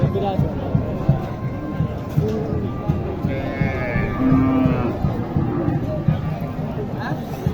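Cattle low repeatedly at a busy livestock market in Naogaon, Bangladesh, with native cows and calves on sale; the moos rise over a dense murmur of crowd chatter and nearby talk.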